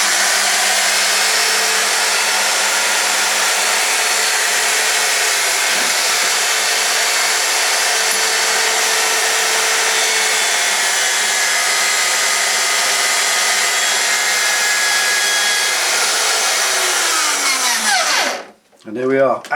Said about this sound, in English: pop the last centimetre of it in your drill chuck, like that, Chuck.